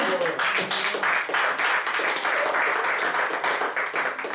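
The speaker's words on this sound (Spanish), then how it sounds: "Denle un aplauso al Señor." An evangelical church congregation gives a sustained round of applause during a sermon, with dense, loud clapping that stays steady and close for the whole stretch.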